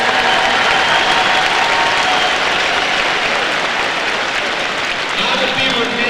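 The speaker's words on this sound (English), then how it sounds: "Let's give a big round of applause to our admissions team" An audience applauds at the All A Classic championship game between Frankfort and St. Henry: a dense, steady wash of clapping and crowd noise across the whole stretch, fairly loud and continuous.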